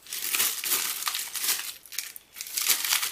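A plastic bag of spare computer parts, with zip ties and screws inside, crinkles and rustles loudly up close as it is handled and torn open, in steady crackling bursts with a brief pause.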